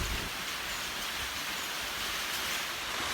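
Steady rain falls in a dense, even hiss with no pauses, moderately loud and uninterrupted throughout.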